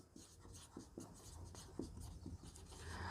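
Chalk or a marker scratches across a board during a lecture on cells connected in series, a close run of short, scraping strokes with brief pauses between them and no talk.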